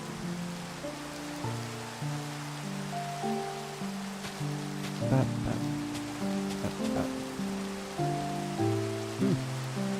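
Rain falling in the Minecraft video game, a steady soft hiss running throughout beneath a sustained tonal background of game music, with no talking.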